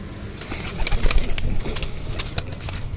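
Several pigeons being sold in a market offer, cooing softly and repeatedly at close range against a busy background with light rustling.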